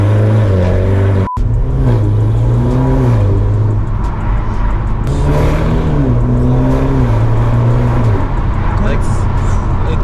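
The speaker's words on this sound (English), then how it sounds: "it does sound like a sport car" A car fitted with an aftermarket valved exhaust from Alibaba revs loudly up close, its engine note rising and falling in repeated sweeps while a voice talks over it.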